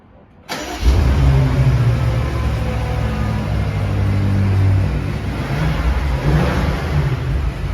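A 2022 BMW M5 LCI V8 starts abruptly after brief silence, flaring into a loud rev, then settles into a strong throaty idle with occasional blips, heard close up without talk.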